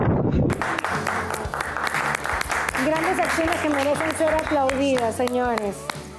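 Applause from a studio audience at a Spanish-language talk show, loud and continuous with dense clapping throughout, while music with a sung melody rises underneath.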